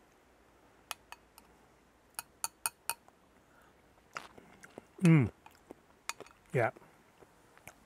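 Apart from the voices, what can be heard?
tasting and eating cucumber raita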